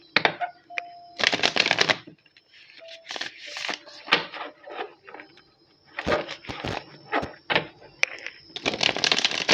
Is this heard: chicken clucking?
no